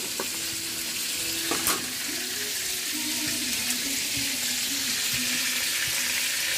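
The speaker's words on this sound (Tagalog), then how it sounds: "Yun yung nililuto ni Iban. Siniritong anduhaw." Anduhaw fish sautéing in a pan at home gives a steady, close sizzle with a bright hiss throughout, a few light clinks and stirring scrapes, and faint background tones but no talking.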